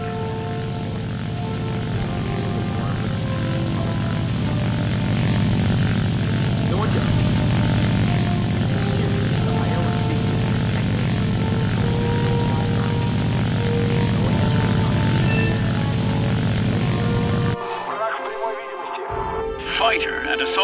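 An IL-2 attack aircraft's propeller engine drones steadily and loudly in the War Thunder combat flight game, a constant rumble with speech over it, cutting out abruptly near the end.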